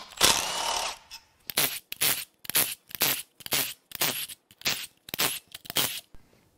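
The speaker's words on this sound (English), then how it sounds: "Now I'm just going to start zipping bolts out." A power tool spins bolts out of the intake on a 2.0L diesel Chevy Cruze. One long whirring run comes first, followed by about ten short, evenly spaced bursts, close and fairly loud, with nobody talking.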